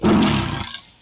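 A tiger in a video game lets out a loud, close roar lasting about a second, strong at first and fading away at the end.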